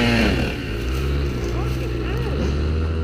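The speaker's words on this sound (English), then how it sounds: "He made it all the way down there on the bike." A dirt bike engine drones loudly while being ridden outdoors, a steady rough roar with slight pitch shifts, under excited voices talking.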